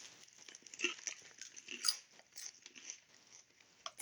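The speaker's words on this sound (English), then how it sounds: "So I will test also that is the potato chips" Crunchy bites of large, salty potato chips, a few sharp crackling crunches spread irregularly over a quiet background, close to the microphone, with no talking.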